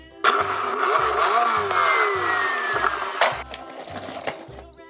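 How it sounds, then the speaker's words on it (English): A toy racing car revs with a buzzy, whining engine, pitch sweeping up and down over a steady pulsing beat, fairly loud throughout. "Racing car."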